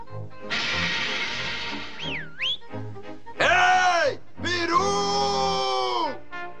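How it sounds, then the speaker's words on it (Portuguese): A turkey call whistle gives several warbling, sliding tones in short bursts separated by brief pauses, fairly close and loud. "Apito para peru."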